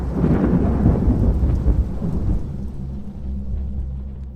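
Heavy rain pours steadily while deep thunder rolls loudly through the first half, then fades to a lower rumble under continuing rainfall, no voices present.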